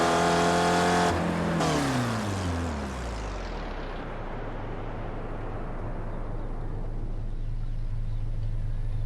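Race car engine on the Bathurst circuit in the iSpec Racer Ford Challenge racing game: a loud, close engine winds down hard under heavy braking, its pitch sliding downward, then settles into a steady, lower drone.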